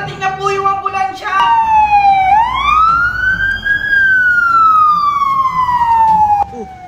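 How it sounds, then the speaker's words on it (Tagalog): An ambulance siren wails loudly close by, its long rising and falling tone sweeping up and then sliding slowly down, with a few short yelping bursts at the start. "Paparating na po yung ambulansya!"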